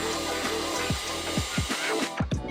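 A power drill drives screws through a bracket into wood inside a 2018 Sprinter van build, several short descending whirring bursts over a steady motor hum, close and loud.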